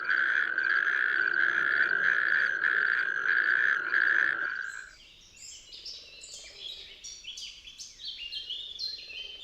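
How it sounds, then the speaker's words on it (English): A tiny toad, the smallest in Poland, gives a loud, continuous rattling mating call close by for about five seconds before it stops abruptly, leaving scattered bird chirps and tweets in the background. "Males try to attract partners with loud, rattle-like calling."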